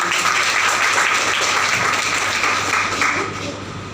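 Loud applause from attendees at a life-change training seminar, a dense, vigorous burst of clapping that holds strong for about three seconds before starting to taper off.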